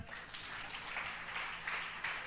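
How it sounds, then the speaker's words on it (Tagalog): Congregation applause at a church preaching service, a steady wash of clapping from a crowd of worshippers, moderately loud and continuous, with faint voices underneath. "Yung buhay na palakpak"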